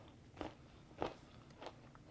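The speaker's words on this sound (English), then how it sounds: "Crunchy, cooked peanuts with just a hint of sweet, smoky, salty, and a little spice." Crunchy, sweet, smoky and spicy caramelized peanuts being bitten and chewed close to the mic, with three distinct crunches spaced about half a second apart against a quiet background.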